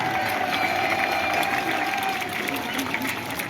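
A crowd at an outdoor village ceremony applauds and cheers in a continuous, dense roar of clapping, with voices mixed into the noise and a thin tonal line running through it.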